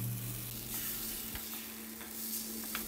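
Batter for Thai khanom tang taek pancakes sizzles steadily in a hot frying pan, a constant crackling hiss with a few small pops and a low background hum.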